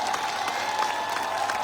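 Dense, steady applause from a large crowd at a motivational event, loud and continuous like a wash of many hands, with faint voices mixed underneath.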